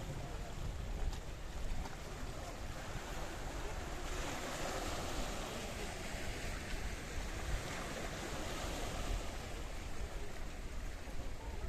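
Mediterranean Sea waves rolling in along the Paphos promenade in Cyprus, a steady, full wash of surf and water noise that continues without pause, with no voices.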